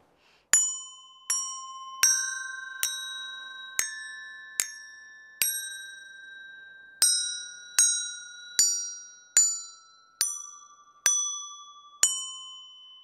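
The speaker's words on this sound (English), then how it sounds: "A round bell can even make a song." A round metal bell is struck repeatedly to play a simple tune, each bright ding ringing clearly and decaying before the next strike, about a dozen notes in a steady melodic rhythm.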